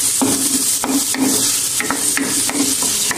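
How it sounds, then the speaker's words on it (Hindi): Onions sauté gently in a pan, a loud, steady sizzle broken by regular spoon scrapes and taps against the pan as they are stirred. "इसको जो है ना वो हमने स्लाइड सा कुक करना है, ब्राउन नहीं कीजिएगा प्याज, बस हल्के से इसको पिंक करना है प्याजों को हमने"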